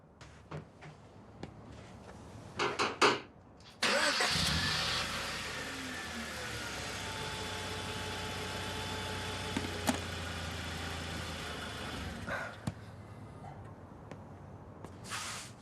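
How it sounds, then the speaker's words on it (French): A car engine cranks briefly and catches after a roadside repair to a loose distributor, then settles into a steady, fairly loud idle that runs on for about eight seconds before cutting off. "Vas-y, démarre le moteur."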